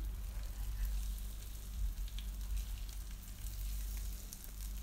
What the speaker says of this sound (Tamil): எண்ணெய் சூடானதும் நம்ம ரெடி பண்ணி வச்சுருக்க மீனை ஒன்று ஒன்றா சேர்த்துக்கோங்க